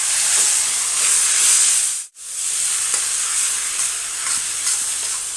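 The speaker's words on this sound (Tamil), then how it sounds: "இப்போ நம்ம இதை கிளறிக்கலாம்." A mango rice mixture sizzles steadily in a hot pan while being stirred, with a constant loud frying hiss that drops out briefly before returning.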